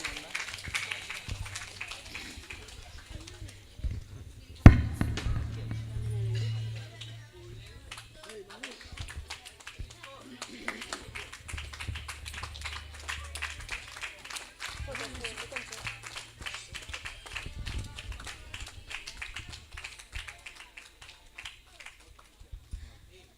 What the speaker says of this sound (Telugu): అందరు చప్పట్లు కొడదాం.